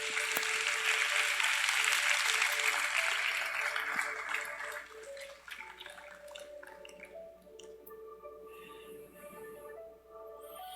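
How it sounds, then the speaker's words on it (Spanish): A church congregation claps in praise, a loud wash of applause for the first few seconds that fades quickly. Sustained organ or keyboard tones linger underneath and carry on alone after the clapping dies away. "Denle un aplauso al Señor."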